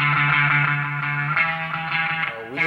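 Distorted electric guitar played through Guitar Rig software, a thick sustained tone holding a low note before sliding into shifting pitches, continuous and fairly loud throughout, no voices.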